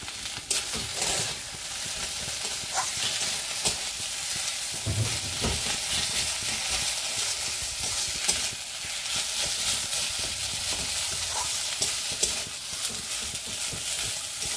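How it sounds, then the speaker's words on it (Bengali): Potatoes being stir-fried in a pan for egg chops, a continuous close sizzle broken by scraping and knocking stirs from a spatula, with no voices. "আমার আলুগুলো ভাজা হয়ে গিয়েছে, এখন আমি দিয়ে দেবো ধনেপাতা।"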